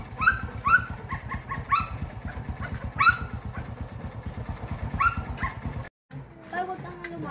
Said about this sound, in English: And there's the most annoying dog in the world.